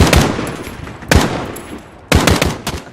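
Gunfire in Call of Duty Modern Warfare campaign combat: loud bursts of rapid automatic fire with sharp separate shots, close and dense, with no talk.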